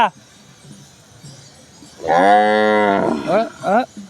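A cow lets out a loud, drawn-out moo followed by two shorter lowing calls, after a quiet stretch with faint voices.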